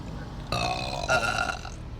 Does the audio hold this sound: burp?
yes